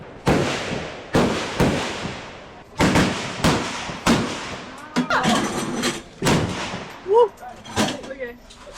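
A series of loud, sharp gunshots rings out at a shooting range, about eight or nine cracks spaced roughly a second apart, each with a short echoing tail, while people talk faintly between and over the later shots.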